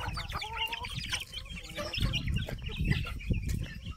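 A flock of chickens clucking and squawking close by, busy and overlapping, with rustling and scratching underneath.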